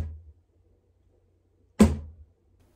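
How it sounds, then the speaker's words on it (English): A box drum struck once as a Foley impact, a single close, deep thump with a short decay, alone against near silence after a faint earlier rustle. "In the next clip, I used a box drum for impact."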